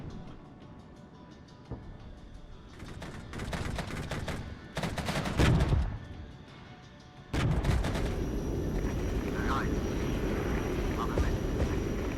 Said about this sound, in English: we'll get Alpha Jets to come in to help deal with those tanks quicker